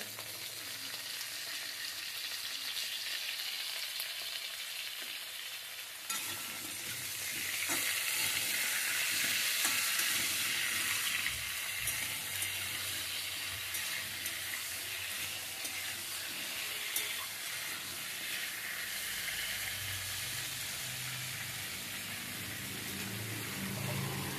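Pointed gourd (potol) fries in a covered pan, a soft sizzle that swells into a louder, steady crackling hiss once the lid goes on, continuing without speech.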